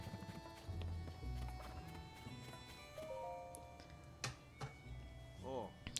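Horse hooves clip-clop in the Zelda: Tears of the Kingdom video game, a steady run of light knocks mixed under game music and occasional chimes, with a short whinny-like call near the end.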